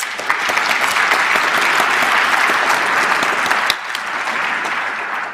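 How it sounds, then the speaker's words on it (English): Applause fills the room at a First Nations leadership gathering, a thick, sustained clapping from a large crowd that dips slightly near the four-second mark and continues at a lower level. "Let's give all of these people a round of applause."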